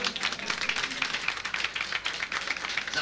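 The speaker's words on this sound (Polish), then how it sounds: "Brawa dla Pani." At an auction during an art and photography exhibition opening, an audience applauds a buyer with steady, dense clapping from many hands, close and continuous, with no voices over it.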